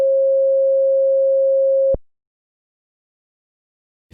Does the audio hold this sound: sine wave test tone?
yes